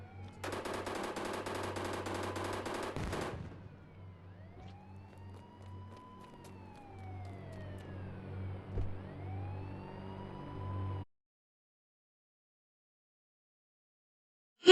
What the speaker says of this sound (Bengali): আরে মানুষকে গুলি করতেছে।